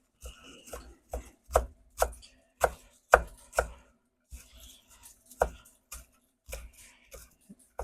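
Knife chopping vegetables for tomato soup on a cutting board, a series of sharp, irregular thunks, close and fairly loud, with short pauses between bursts and no talk.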